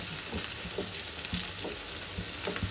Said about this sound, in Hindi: ये हम थोड़ा सा इसमें ऐड कर देंगे और इसे हिला के मिक्स कर लेंगे